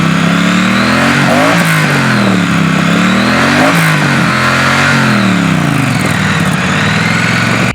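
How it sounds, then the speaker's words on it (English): A 2016 Triumph Street Twin motorcycle engine revs hard through its exhaust, loud and close, with rising and falling pitch swells about every two seconds over a steady roar and no talk. "it's got that beautiful exhaust note"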